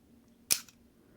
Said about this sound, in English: Now watch the difference when I release the shutter.